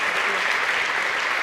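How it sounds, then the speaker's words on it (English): Audience applause for badminton players Xu Huaiwen and Pi Hongyan at a women's singles event, a dense, steady clapping that stays loud and even throughout, with a faint voice underneath. "Can we just give a round of applause to Huaiwen and Hongyan,"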